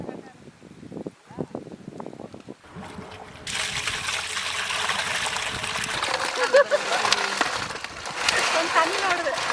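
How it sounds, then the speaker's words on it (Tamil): Tap water runs steadily and splashes while raw crab is being cleaned for a traditional crab curry, a continuous close-up gush that starts after some handling noises, with people talking over it. "தண்ணி ஓடுது."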